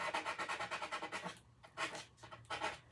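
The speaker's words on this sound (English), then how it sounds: "So I'm going to keep sanding this a little bit." Wood is sanded by hand in quick repeated back-and-forth rubbing strokes, close and fairly soft, with a short pause before the strokes resume.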